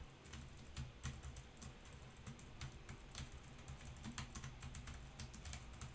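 Continuous typing on a Logitech computer keyboard, with quick, irregular clicky keystrokes over a steady low background hum from a fan or air conditioner in the room, heard alone without any talk.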